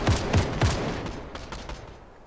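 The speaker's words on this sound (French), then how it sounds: "Attends, ça shoot sur moi." Gunfire in a Fortnite match: three sharp, close shots fire in quick succession, followed by a scattered, fainter burst of distant shooting that trails off.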